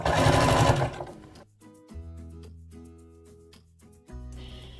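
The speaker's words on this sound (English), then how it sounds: "I'm just stitching along this seam" A sewing machine stitches along a hoodie seam, starting with a loud burst and then running in a steady, close hum that stops briefly and resumes.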